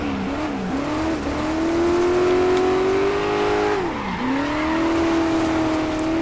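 A car spins donuts in the Dirt 5 racing game, its engine holding a loud sustained rev that dips briefly and climbs again, with tyre noise underneath, close and continuous with no voices.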